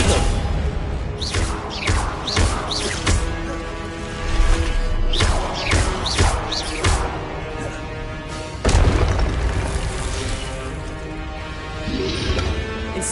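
Fire spell Incendio cast repeatedly during Hogwarts Legacy play, a run of loud whooshing bursts and booming impacts tumbling over each other in a dense, noisy battle mix.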